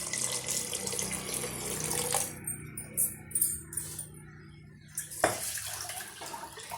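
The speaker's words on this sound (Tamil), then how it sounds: "இப்போ இந்த கப்பால் 2 கப் அளவுக்கு நம்ம தண்ணி சேர்த்துக்கலாம்." Water poured into rice for egg biryani, a steady splashing stream close by that breaks into uneven gurgles and drips, then stops with a clunk.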